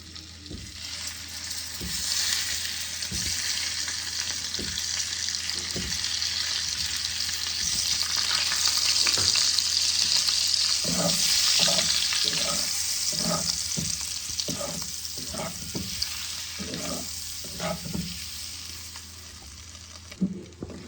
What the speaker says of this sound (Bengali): এবার আমি ডিমগুলোকে কালারফুল করে ভেজে নেব।